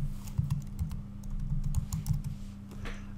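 Rapid typing on a computer keyboard while entering a spreadsheet function, with quick irregular clicking keystrokes heard close over a constant low electrical hum and no talking.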